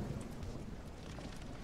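Rain in the video game No One Survived, a faint steady wash of falling rain with low rumbling underneath, continuous and distant.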